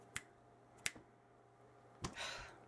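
Two or three crisp finger snaps, close and separated by short pauses in a quiet sewing room, followed by a brief rustle.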